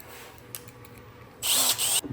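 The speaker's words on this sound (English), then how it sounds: "And then we'll get our 5mm drill bit." A power drill with a 5mm bit whines in a short burst of about half a second while drilling a hole, loud and close, after a few faint clicks and quiet handling noises.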